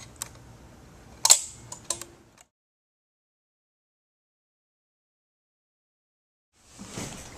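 Shackman Polaroid camera shutter firing: a sharp mechanical click with a couple of smaller snaps and rattles close by, then near silence, ending with a soft rustling noise.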